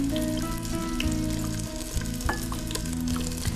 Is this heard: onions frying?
yes